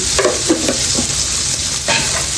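Wagyu beef sizzles loudly in its own rendered fat in a pan, with repeated scraping stirs of a utensil cutting through the close, constant frying hiss.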